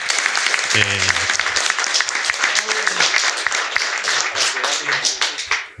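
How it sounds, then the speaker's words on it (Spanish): Steady applause from a conference audience, dense and loud across the whole stretch, with a voice speaking briefly over the clapping near the start. "Quiero también pedirle un aplauso a Fernanda Monticelli."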